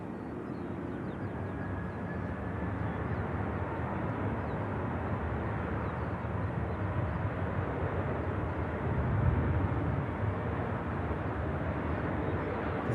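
A Canadian Air Force Hercules taxiing at an airport, a steady broad engine roar that stays constant and fairly loud throughout, swelling slightly near the end, with no talk.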